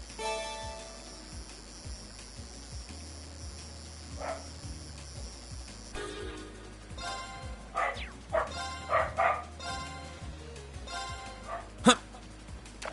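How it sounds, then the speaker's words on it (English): Dog barking in a game during a fishing scene at a lake, a run of sharp barks and yips that grow louder and closer toward the end, over a steady low background tone. "My dog's mad at something."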